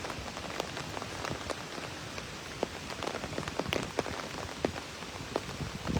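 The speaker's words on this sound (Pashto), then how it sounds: "ډېر زیات تیز ترین باران دی" Very heavy rain pours down in Sawaldher, Mardan, Khyber Pakhtunkhwa, with a constant dense hiss of drops hitting surfaces and sharp individual splatters and taps standing out close by. No voices are heard.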